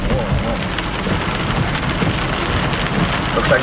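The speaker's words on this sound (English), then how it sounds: "I think this storm is getting even more active now." Heavy Florida thunderstorm rain hammers down in a loud, dense, continuous wash, with low rumbling underneath and no clear voices.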